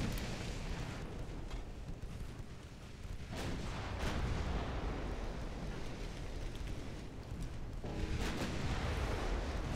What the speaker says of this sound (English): Hearing some shells bouncing off the armor.